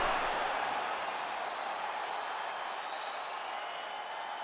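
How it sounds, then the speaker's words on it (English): Steady applause and cheering from a large arena crowd after a round of a UFC 5 video game fight, a continuous even wash of clapping that holds at a constant level throughout. "So the crowd voicing its appreciation after that round."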